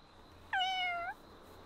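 A single clear cat meow from the video game Fire Emblem Engage, lasting about half a second over a faint steady background hum, with no voices.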